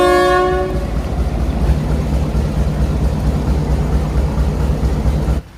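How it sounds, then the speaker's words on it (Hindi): Karachi-to-Havelian train arriving at platform 4 of Golra Sharif railway station, opening with a loud horn blast, then a close, heavy rumble and clatter of carriages rolling past until an abrupt cut. "अभी एक ट्रेन आने वाली है कराची से हवेलियाँ जाने के लिए, प्लेटफॉर्म नंबर 4 पर आ रही है।"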